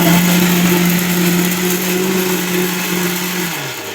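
A kitchen mixer grinder runs steadily, grinding ghee-roasted ingredients for gongura chutney with a loud, continuous motor whine that slows and drops in pitch near the end.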